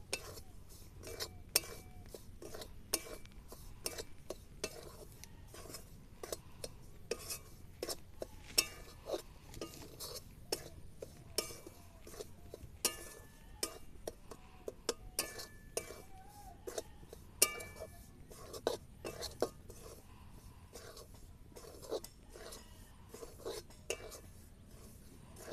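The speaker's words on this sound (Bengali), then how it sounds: "দুটো উপকরণ ভালো করে ভাজতে হবে একদম হালকা আঁচে" Gram flour being stirred and dry-roasted in a pan over low heat, with a steady run of light scraping clinks and utensil taps against the metal; a faint, quiet background of no clear speech.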